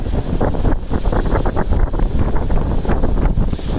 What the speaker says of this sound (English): It's freaking windy and raining, and I'm soaked